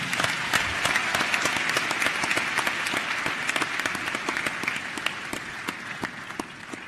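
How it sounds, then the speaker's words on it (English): Sustained applause from an audience at a youth summit, a dense steady wash of many hands clapping at even loudness throughout, with sharper individual claps standing out near the front. "we can give him another thunderous round of applause."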